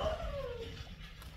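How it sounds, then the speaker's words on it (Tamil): A dog in a neighbourhood gives a single drawn-out, falling whine-like yelp up close, with steady background noise and no talk. "நாய் ஃபுல்லாம் குலைக்குது"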